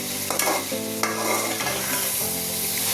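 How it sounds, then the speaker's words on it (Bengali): Radish and potato sautéed in oil in a pan, with steady sizzling and frying under repeated scraping stir strokes, close and continuous throughout, with no voices. "মূলাটা আলুটা খুব করে সটে করে নিচ্ছি।"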